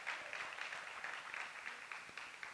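Applause from the audience at a New Jersey Black issues convention, a faint, steady patter of many hands clapping heard from a distance.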